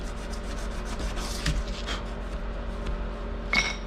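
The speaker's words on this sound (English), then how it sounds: "I'm sanding these all up to 400 before I move on" Steady, rhythmic rasping strokes of sandpaper rubbing against knife blade bevels, close and fairly quiet, repeating in short back-and-forth passes.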